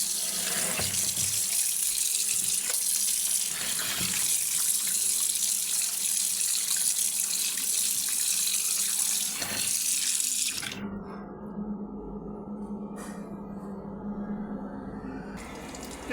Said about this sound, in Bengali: এখন মাছটা আমি আস্তেই আমি ধুয়ে নেব।